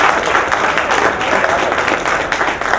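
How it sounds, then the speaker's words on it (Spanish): A congregation bursts into loud, close applause during a Christian talk, dense clapping with a few cheers, continuous throughout. "Yo quiero que le demos un fuerte aplauso a Daniel."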